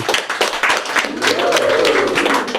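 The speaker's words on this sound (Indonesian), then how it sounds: "Tepuk tangan buat saya." A studio audience bursts into applause, a dense run of claps lasting a couple of seconds with voices calling out over it.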